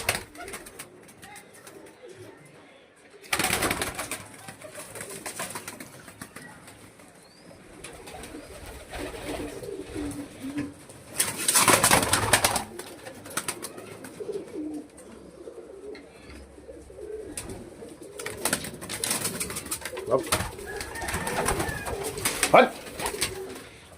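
Domestic pigeons, including a black and white male, cooing softly in a loft, low repeated coos in the background with scattered rustling, louder bursts now and then, and someone talking intermittently.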